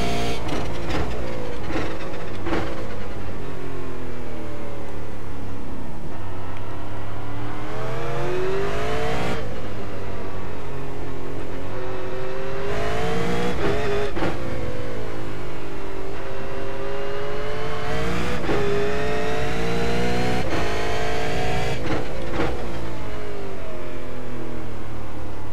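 A V8 race car engine at Okayama in iRacing roars continuously at high volume, its pitch climbing repeatedly through the gears then dropping sharply between rising revving sweeps.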